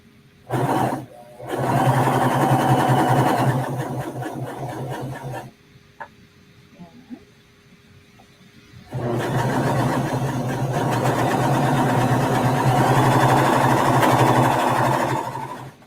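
A Pfaff serger sews fabric in two long, loud continuous runs of fast mechanical whirring, separated by a quiet pause with small handling clicks.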